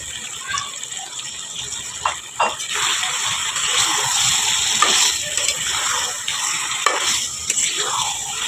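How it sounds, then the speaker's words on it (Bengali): Goat meat hits hot spiced oil in a pan, giving a continuous sizzle with scraping, clinking stirs from a utensil at intervals, close and moderately loud. "এখন আমরা দিয়ে দিব খাসির মাংস"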